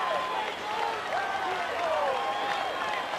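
A few fans clap sparsely after a home run in NLCS Game 4 between the Los Angeles Dodgers and New York Mets, faint and thin beneath a commentator's steady talk and low crowd murmur.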